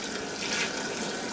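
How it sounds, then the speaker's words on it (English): Water poured into a cooking pot of red beans, a steady, close, continuous splashing hiss that holds level throughout with no voices. "Add some more water to that."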